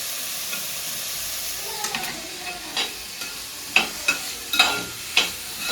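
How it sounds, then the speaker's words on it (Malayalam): Spices and two green chilies sauté in a pan for a taro-stem curry, a steady soft sizzle broken by sharp scraping stirs that grow more frequent toward the end, with no talk. "എല്ലാം കൂടെ ഒന്ന് മൂക്കട്ടെ, ഒന്ന് വഴറ്റിയെടുക്കാം"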